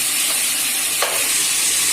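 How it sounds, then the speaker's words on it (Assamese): Chicken meat dry-frying in a pan for an Assamese dish, a steady broad sizzle and hiss with a brief louder crackle in the middle, close and continuous with no talking. "মাংসখিনি আমি 15-20 মিনিট এনেকৈ শুকানকৈ ভাজি ল'ম ড্ৰাই কৰিম"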